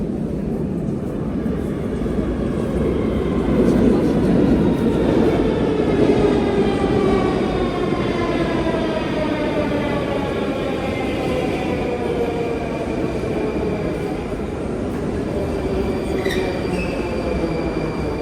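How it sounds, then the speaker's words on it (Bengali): A Kazan metro train arriving at an underground station: a loud, steady rumble of wheels on rail with long rising and falling whining tones and squealing as it slows, close and continuous, with no talk. "এখন এই পায়ে একটা ট্রেন আসতেছে"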